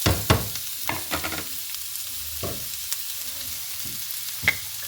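Crushed ginger and garlic hit hot oil for an Angamaly-style pork roast, giving a steady sizzle broken by a few sharp stirring scrapes and clicks, near and moderately loud, with no talking.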